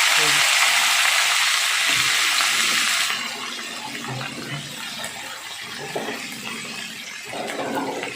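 Sliced onion goes into hot oil in a wok already holding cumin seeds and dried red chillies. A loud, bright sizzle bursts at first, then settles into a quieter crackle with faint stirring.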